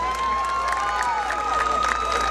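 A fair crowd cheers and claps for a child stepping forward at a pig scramble contest, with steady cheering and scattered shouts across the moment, under an announcer's voice.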